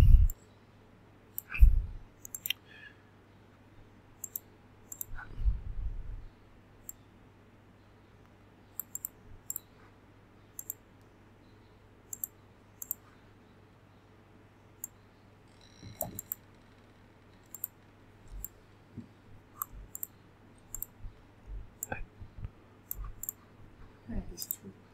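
Computer mouse clicking while drawing on a stock chart, sparse sharp clicks scattered across a quiet room with faint background hum and a couple of louder bumps early on.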